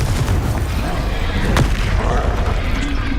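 A Confringo spell blast in Hogwarts Legacy: a dense, rumbling explosive boom with a sharp crack near the middle, loud and continuous, with a player's voice mixed in.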